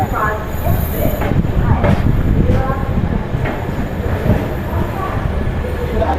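Rumbling train arriving at Ujjain Junction station with low mechanical noise and occasional clanks, fairly loud and close, with voices murmuring faintly in the background.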